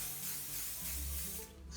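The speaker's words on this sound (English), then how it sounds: "First, a little olive oil spray to the inside." Olive oil cooking spray hisses steadily from a can into the inside of a Corningware baking dish, a close, continuous burst that cuts off near the end.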